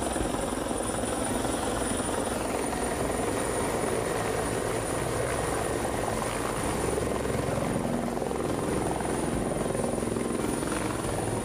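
A helicopter carrying a state chief minister arrives over a village in Ghazipur, its rotor and engine producing a loud, steady roar and thrum throughout, with no voices heard.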